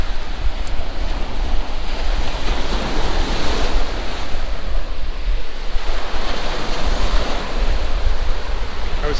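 Ocean waves break and wash continuously on Van's Beach in Leland, a loud, roaring surf layered with gusty wind buffeting the microphone.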